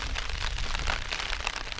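Rain falling steadily at a mountain wild camp on Arenig Fawr in Snowdonia, a dense close hiss of drops with a low rumble of wind underneath, continuous and without talk.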